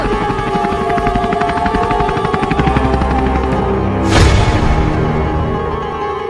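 A helicopter's rotor beats in a loud, continuous rhythmic chop close by. A brief whooshing swell rises near the end, with no talk over it.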